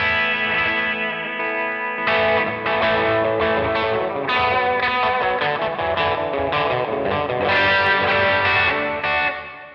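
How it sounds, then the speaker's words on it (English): Electric guitar played through the overdrive distortion boost of a NUX Trident multi-effects unit: thick, saturated sustained chords and riffs, loud and continuous after a brief quieter opening, with no talking. "this is your overdrive distortion boost"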